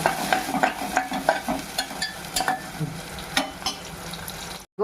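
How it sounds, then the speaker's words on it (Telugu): Onion pieces fry in a pan for mutton curry, a steady close sizzle broken by repeated quick spatula scrapes and stirs, with no talking. "అవి కొంచెం ఫ్రై కావాలి."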